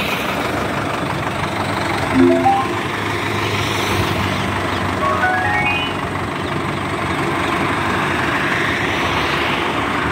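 Sonalika Tiger 90 DI tractor engine running outdoors, a steady idling rumble that swells briefly as it is revved a couple of times, with a brief spoken word.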